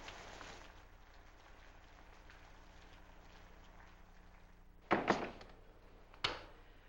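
Faint, steady rain patters in the background, broken by a couple of louder knocks or thumps near the end.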